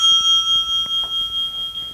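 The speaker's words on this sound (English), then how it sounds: "Marie, you can begin when the bell rings." A debate timer bell at a local televised debate rings with a sustained, bright metallic tone that carries on and gradually fades, in a quiet room without speech.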